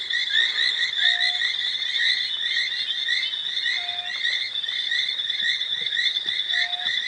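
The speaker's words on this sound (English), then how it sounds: "Bullfrogs." Bullfrogs croak at dawn on a safari drive, giving low single calls at intervals against a dense, steady chorus of insects or frogs. The calls sound moderately distant and no one speaks.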